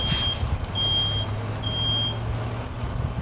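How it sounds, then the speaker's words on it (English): A smoke alarm sounds outdoors at a live fire burn demonstration, three high steady electronic beeps in a regular pattern over a low engine-like rumble. "it actually caused the other smoke alarm to go off"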